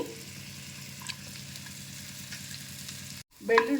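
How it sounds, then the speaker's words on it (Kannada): Garlic fries in melted butter in a pot while cooking white sauce pasta, a quiet, steady sizzle with a faint rhythmic undertone, cut off by a brief silence and then a short louder clatter at the end. "ಈ ಥರ ಸ್ವಲ್ಪ ಗೋಲ್ಡನ್ ಬ್ರೌನ್ ಬರೋವರೆಗೂ ಫ್ರೈ ಮಾಡ್ಕೊಳ್ಳೋಣ"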